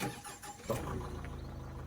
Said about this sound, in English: And when you start the vehicle,